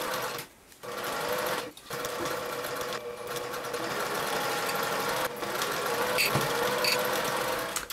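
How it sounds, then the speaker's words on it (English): A sewing machine stitches a quarter-inch seam along the top edge and curve of a bag strap, running steadily and close, with a few brief pauses between bursts. "you'll take each of the straps over to your sewing machine and you'll start sewing on this top edge"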